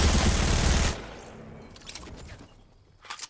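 Gunfire in the Fortnite video game, including a hunting rifle, as a player shoots at a tree: a dense burst of shots for about a second, then a quieter tail with a few faint scattered pops.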